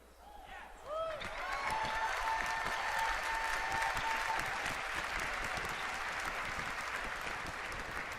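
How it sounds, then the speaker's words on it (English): A large Blizzcon convention audience breaks into applause and cheering after a brief quiet start, a broad, sustained roar of clapping and whoops that stays loud and even to the end, with a voice faintly heard at the outset. "I hear people cheering"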